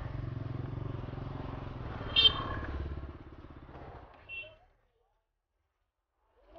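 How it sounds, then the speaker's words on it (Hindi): A motorcycle engine idles nearby with a rough, uneven, sputtering rumble for a few seconds, then cuts off into near silence. "देखो यार कैसी गंदी आवाज़ कर रहा है ना ऐसे बाइक भी चलाने का दिल नहीं करता"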